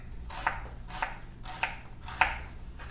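A knife slices through a peeled piece of food on a board, giving four crisp, evenly spaced cuts heard up close, with a low steady hum behind them.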